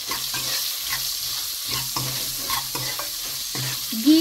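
Vegetable pulao with salt being stirred in a pot, with a spoon scraping and sizzling faintly in steady strokes at close range, no talking.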